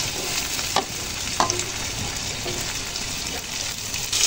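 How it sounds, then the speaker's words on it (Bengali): Chopped tomatoes are stirred into fried spice paste in a pan for a taki fish curry with potatoes, a loud, constant sizzle with periodic scraping stirs, close and without talk. "টমেটোগুলো মশলার সাথে ভালো করে নেড়ে চেড়ে দেব"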